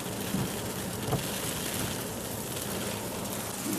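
Small hail falling outdoors at Shooters Hill, a steady dense hiss of tiny pellets striking surfaces nearby, constant and unbroken with no voices.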